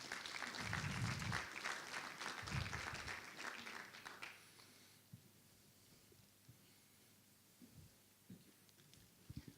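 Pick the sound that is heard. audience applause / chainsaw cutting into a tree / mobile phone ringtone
audience applause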